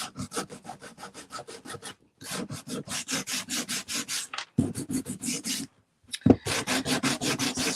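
Sandpaper distresses painted wood by hand in quick, rhythmic back-and-forth rasping strokes, close and fairly loud. The strokes stop briefly twice before resuming.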